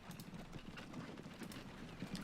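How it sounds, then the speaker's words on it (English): Horse carriage hooves in the video game Transport Fever, a faint, distant patter of quick clip-clop steps over a low background hum. "what is this anyway? A horse carriage."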